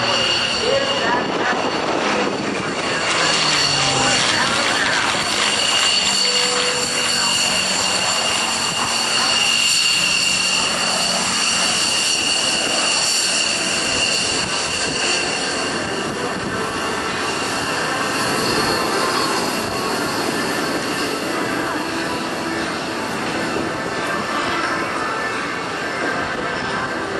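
A P-51 Mustang passes overhead at the 2007 NAS Oceana airshow, its engine a long, powerful roar that swells and lingers for many seconds outdoors.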